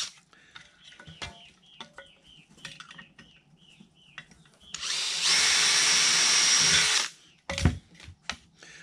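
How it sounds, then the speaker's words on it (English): A power drill with a cobalt bit bores into an RV-4 aircraft wing spar, one loud sustained whine of about two seconds, near and steady, after quiet workshop clinks, with a thud following. "we're just going to go drill four holes right there"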